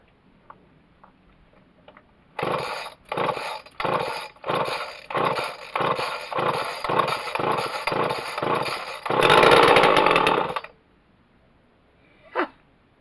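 A Husqvarna 240 chainsaw lacking a chain brake is pull-started with a quick run of rhythmic cord-pull bursts, then briefly catches into a loud, rough buzz before cutting out, followed by a short faint squeak.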